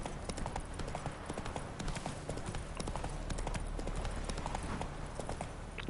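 Steady clip-clop of horse hooves as a horse is ridden in The Witcher 3: Wild Hunt, a continuous brisk rhythmic trot heard up close and alone, with faint ambient game sound beneath.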